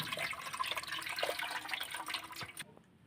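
Potato peels are washed by hand in water to rinse off sand and soil, giving continuous sloshing and splashing that stops abruptly near the end.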